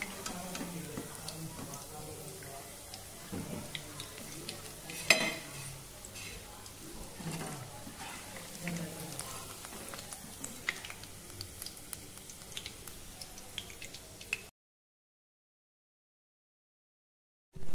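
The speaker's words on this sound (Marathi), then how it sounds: "आता अशाच प्रकारे आपल्याला सर्व गोळे तळून" Veg Manchurian balls deep-frying in oil, giving a steady low sizzle broken by clinks and scrapes of a spoon against the pan, then cutting to silence near the end.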